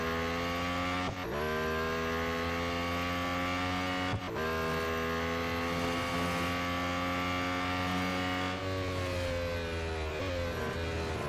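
A Lotus Emira GT4 race car in the video game Real Racing 3 accelerates hard, its engine whining up through the revs with a couple of abrupt gear-change dips, loud and continuous.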